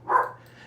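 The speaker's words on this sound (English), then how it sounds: "That's my dog in the background." A dog gives a single short bark in the background, brief and fairly faint, fading into quiet room noise.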